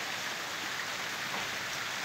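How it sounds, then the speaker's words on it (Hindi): Light drizzle falls steadily in the morning, a soft even hiss of rain on surfaces with no breaks and no voices. "और रिम झिम बारिश पड़ रही है।"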